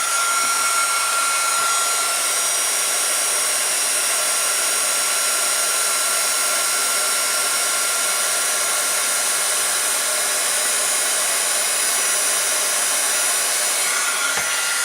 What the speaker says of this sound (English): And then we're going to go ahead and heat set it.